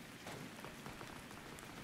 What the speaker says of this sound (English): The rain's not too loud for you guys, right?